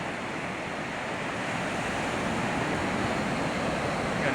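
Steady wash of sea waves breaking at a seaside shore just after a flood, a continuous broadband roar with mild wind noise, fairly close and unbroken, with no voices.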